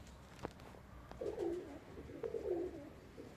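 Parade pigeons coo nearby, two soft, rolling calls in quick succession over a quiet background with faint taps.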